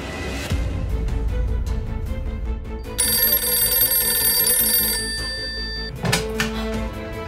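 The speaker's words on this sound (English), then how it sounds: "It's the Pro Hacker's phone." A phone rings loudly with a repeated electronic ringtone over a dense background of other sound, with a sharp knock near the end.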